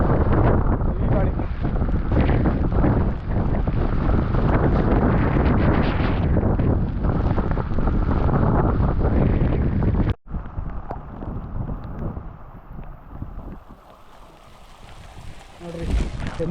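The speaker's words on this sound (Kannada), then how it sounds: "ತುಂಬ ಗಾಳಿ ಇತ್ತು ಅಂತ ವಾಪಸ್ ಬರ್ತಾ ಇದ್ದೀವಿ." Strong wind batters the microphone during a rainy trek to Gangadikal, a loud continuous roar for ten seconds before cutting to a quieter, gusty rush.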